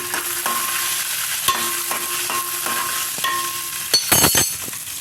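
Garlic fries in a pan while a utensil stirs it, a loud even sizzle broken by regular scraping strokes and a brief clattering burst near the end, with no talking.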